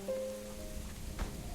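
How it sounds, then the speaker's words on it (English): Rain falling in the strategy video game Rise to Ruins, a faint soft wash of rain with a low steady game tone underneath, brief and quiet. "Okay, it's raining."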